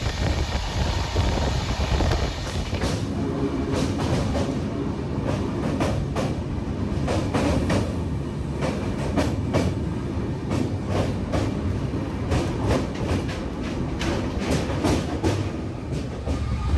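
The Amritsar Bikaner Weekly Express rolls into Beas Junction, a steady loud rumble of wagons with repeated clickety-clack of wheels over rail joints and a brief high squeal near the start, with no voices.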